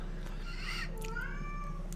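A cat meows at a door, one drawn-out meow with a rising, bending pitch, close and clear over a steady low hum.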